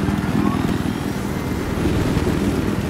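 Helicopter in the video game Battlefield 4 multiplayer, a loud continuous rotor thump and engine drone heard close up, steady for the whole stretch with no talk over it.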